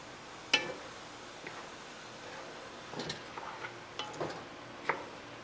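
Onions, pimento, garlic and thyme stirred into a pot of vegetable pelau, quiet scraping and clinking of a spoon against the pot in short scattered strokes over a faint sizzle.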